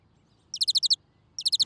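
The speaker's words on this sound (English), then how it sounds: "A bird." A bird chirping in two quick bursts of about six sharp, high, evenly spaced chirps each, separated by a short pause, clear and alone over a quiet background.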